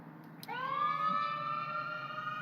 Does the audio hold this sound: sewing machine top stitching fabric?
no